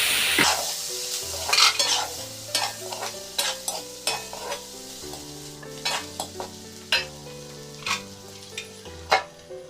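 Pumpkin and chicken stir-fried together in a pan, with steady sizzling and repeated sharp spatula strikes and scrapes against the metal, close and fairly loud, while a soft melodic tune plays in the background.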